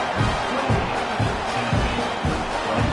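A stadium crowd at a college football game, Tennessee at Texas A&M, roars in a continuous, broad wash of cheering, with rhythmic low booming surges pulsing through it.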